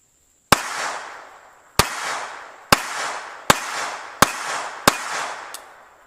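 Six sharp pistol shots from a Tanfoglio GT-27 fired one by one at an outdoor range, evenly spaced about a second apart, each loud crack trailing off in a brief echo.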